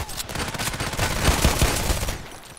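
Rapid TT pistol gunfire in the Contract Wars shooter game, a quick burst of sharp shots close by, followed by a brief quieter tail.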